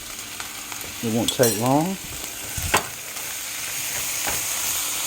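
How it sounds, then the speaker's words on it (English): Green peppers sizzling in a frying pan as they are stirred, with a steady bright hiss throughout and a few scraping stir strokes, while a voice briefly speaks over the cooking. "So basically you want to stir these green peppers up."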